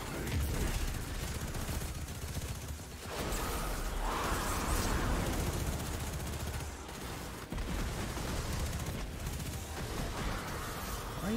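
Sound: gunfire in video game Destiny 2

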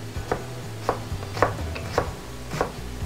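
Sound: knife chopping onion

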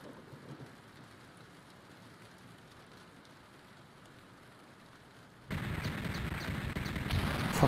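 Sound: thunder and rain

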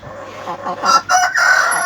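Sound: Denizli red rooster crowing

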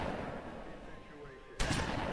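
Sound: gunfire in the Zombie Hunter video game

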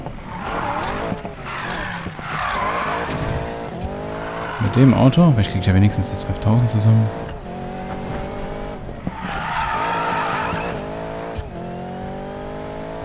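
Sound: car drifting with skidding tires in Need for Speed Payback video game

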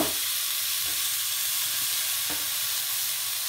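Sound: garlic frying in a pan with tiger prawns

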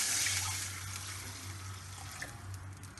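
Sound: water being poured into a pot for rasam

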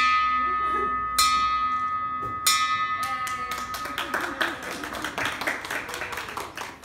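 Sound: ringing a bell at the end of radiation treatment

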